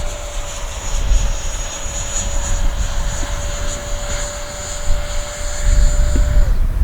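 An FMS F-18F 70mm electric ducted-fan RC jet flies overhead in a vertical climb, its steady high whine holding at one pitch before cutting off, with wind buffeting in the background.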